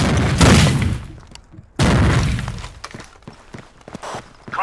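Frag grenade explosions in the Xbox game Rainbow Six 3: two loud, heavy blasts about a second and a half apart, each with a rumbling decay, followed by scattered sharp clicks and debris-like crackles.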